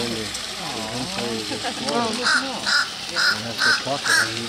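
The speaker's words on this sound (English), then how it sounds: "The crow thinks that he's going to be fed too." A crow caws repeatedly at a pelican feeding frenzy in an injured bird sanctuary in Punta Gorda, Florida, a run of five evenly spaced loud calls following an opening stretch of people talking over background noise.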